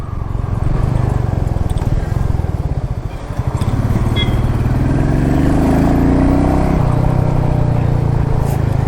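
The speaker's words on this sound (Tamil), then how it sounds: "இது வேற டுவெல் சேனல் ABS வண்டி, செம்மையாக இருக்குது." Royal Enfield Meteor 350 motorcycle from 2021, fitted with dual-channel ABS, heard while riding. A steady, loud mid-range engine drone runs throughout, with a brief dip near the three-second mark and a rising rev later on.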